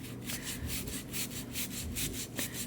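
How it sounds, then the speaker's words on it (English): A brush scrubs tile grout in quick back-and-forth strokes, producing a rhythmic close scratching swish repeated about a dozen times with no voices. "I'm going to take the brush. Ooh, I see light color. I'm going to scrub down this one."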